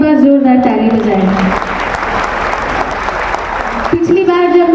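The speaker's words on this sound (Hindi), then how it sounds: "मैं चाहती हूँ इस संख्या के लिए आप लोग एक बार जोरदार ताली बजाएं।" Crowd at a women's gathering breaking into loud applause, a thick wash of clapping that lasts several seconds between someone speaking before and after.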